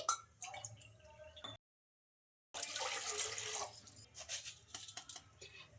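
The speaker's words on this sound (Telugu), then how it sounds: "ఇప్పుడు ఇందులోకి 2 కప్పుల దాకా వాటర్ అయితే వేసుకోవాలి" Water splashes and trickles into a pan in two bursts separated by a short silence, close and fairly loud, with drips toward the end.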